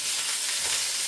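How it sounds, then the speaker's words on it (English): Sausages frying in a pan on a hob give a loud, steady sizzle and crackle, close up, with no pauses over the short moment. "They've been frying for a good 7 minutes now."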